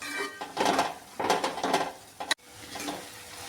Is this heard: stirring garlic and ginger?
yes